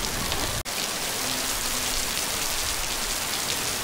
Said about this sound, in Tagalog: Yan, nabot kami ng ulan.